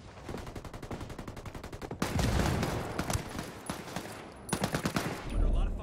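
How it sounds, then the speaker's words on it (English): Gunfire during a competitive video game tournament match: rapid machine-gun bursts, then denser fusillades in two loud stretches, with brief gaps between volleys and no clear speech over the shots. "Under a lot of fire over here."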